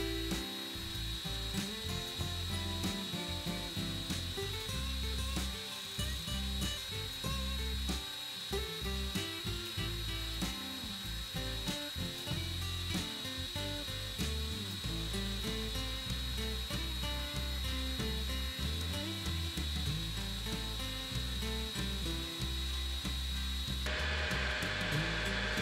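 A long drill bit bores steel from two sides while making a bushing for a homemade forestry cable winch, a continuous grinding whine with clattering mechanical texture throughout.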